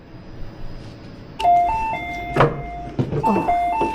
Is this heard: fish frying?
no